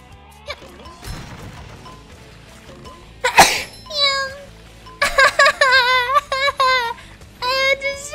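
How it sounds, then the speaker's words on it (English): A loud, abrupt sneeze bursts out once in a cartoon video game scene, then several cartoon voices speak and exclaim afterward. "I know I sneeze loud."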